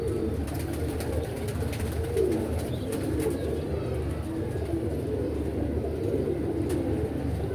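Teddy and blue domestic pigeons kept at a home loft coo softly and steadily over a continuous low background, with no voices.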